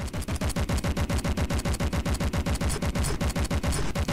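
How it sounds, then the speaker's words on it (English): A land vehicle in From The Depths fires missiles in a rapid, evenly spaced train of loud mechanical bursts, roughly eight per second, unbroken for the whole stretch. "it is starting to fire. And it is firing its missiles."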